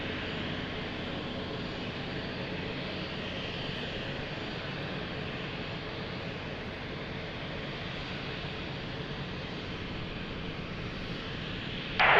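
An airliner comes in to land on runway 02 at Lisbon Airport, its engines making a steady broad roar that holds unbroken for the whole stretch, fairly loud with no voices over it.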